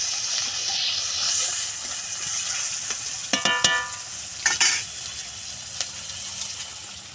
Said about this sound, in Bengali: এখন একটু ভেজে নেব পেঁয়াজটা।